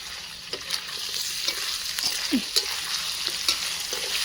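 Sliced onions frying in hot oil in a pan with turmeric and salt, a steady close sizzle broken by several light stirring scrapes and taps of a spoon, with no talking.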